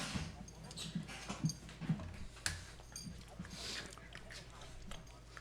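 A dog whimpers softly at several points in a quiet room, faint and close.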